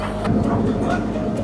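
An old diesel locomotive on a Pakistani railway, over a century old, gives off a loud, close, continuous low rumble with rhythmic mechanical throbbing.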